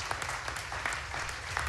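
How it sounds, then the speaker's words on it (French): Audience applause at an economic conference session on energy and agriculture, a soft continuous spattering of claps, fairly quiet and distant, with a low rumble underneath. "vous avez le droit de l'applaudir"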